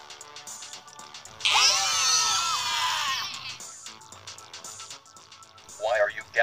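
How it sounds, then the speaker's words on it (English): Cartoon characters from a BFDI fan animation scream loudly in a long, shrill, warbling burst, followed by a quieter stretch and another short scream near the end, with voices talking around it. "Why are you guys yelling so loudly?"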